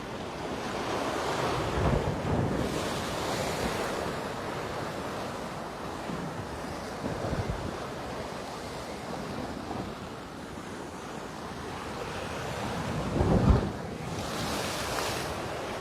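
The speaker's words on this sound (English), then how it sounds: "I gotta imagine you're hearing the waves really nicely crashing" Ocean waves break on Waikiki beach in Hawaii, a continuous rushing surf with wind buffeting the microphone and two louder surges as breakers crash nearby, with no one speaking.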